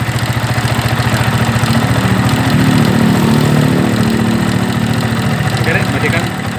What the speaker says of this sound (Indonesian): Ada bunyi seperti gesekan dan bunyi ketukan juga ya. Bunyi bantingan, bunyi kontakan di dalam mesinnya.